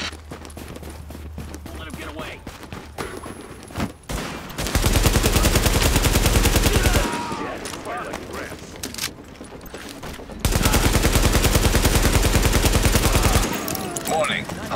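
Sustained automatic gunfire in the video game Tom Clancy's The Division, two loud rapid bursts of several seconds each separated by quieter ambient combat noise, with radio chatter around the firing.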